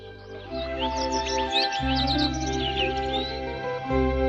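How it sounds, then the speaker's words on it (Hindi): Birds chirp and tweet in quick bursts at a distance, layered over a steady droning hum that cuts in and out. "दूर से आती है चिड़िया की आवाज।"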